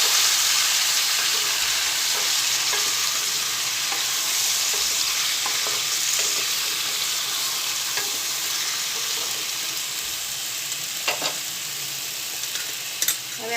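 Potato chips being stirred in a frying pan, a continuous hissing sizzle with scattered scrapes and clicks of a spatula throughout, fairly close and steady, with no talk.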